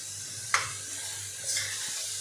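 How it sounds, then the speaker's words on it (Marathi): Grated carrots for gajar halwa are stirred and sautéed in a pan over a very low flame. A soft, steady sizzle runs throughout, with two brief scraping stirs. "2 ते 3 मिनिटे आपल्याला हे परतून घ्यायचं आहे।"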